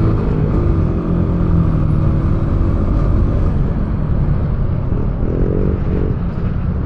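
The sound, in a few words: busy road traffic with cars and motorcycles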